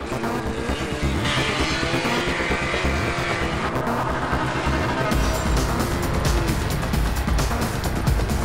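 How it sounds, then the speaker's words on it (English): Classic Morris Marina race cars roar away together at the start of a race, a dense, continuous wall of engine noise that grows louder and rougher partway through, with faint tyre squeal mixed in. "So as our classic Morris Marina, if you could call it Morris Marina a classic, leads the field away."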